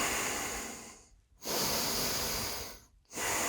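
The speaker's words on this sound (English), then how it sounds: "you'll notice when I take a breath" A person slowly inhales and exhales in a demonstration of deep belly breathing, the steady airy breaths close and soft, separated by brief pauses.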